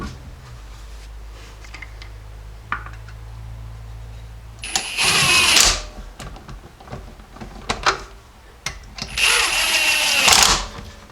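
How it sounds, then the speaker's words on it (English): Lug nuts on Jeep wheels run down with a power tool, two loud whirring bursts of several seconds each with clanks and rattles of the socket between, no talking. "Now we just got to throw on the wheels and retorque them down."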